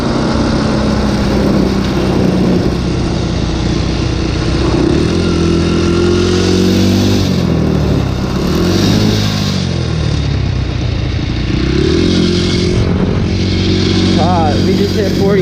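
A powerful motorcycle engine pulls hard uphill at around 45 mph in the rain, a loud continuous drone whose pitch shifts as it climbs, with road and wind noise throughout and a rider talking over it.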